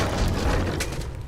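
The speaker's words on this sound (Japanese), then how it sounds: "The explosions didn't affect the room." An explosion in the video game Verne: The Shape of Fantasy sounds as a dense, loud rumbling blast that fills the short moment, with no talk over it.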